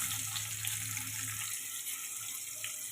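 Chopped onion sizzles in hot oil in a kadhai, a steady, dense hiss that stays close and even throughout, with no voices.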